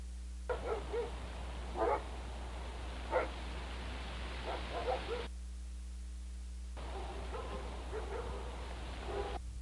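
Two dogs bark in short, scattered bursts at a moderate distance, heard over a steady hum and background noise with a quieter gap partway through.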